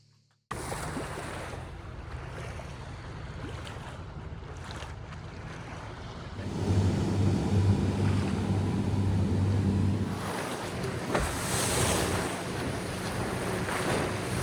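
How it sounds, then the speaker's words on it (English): A speedboat passes on the open sea off Zakynthos, its low engine drone rising for a few seconds over constant wind buffeting and the wash of waves around a slow sailing boat. "there's another speedboat coming here because they cannot wait for us because we're too slow."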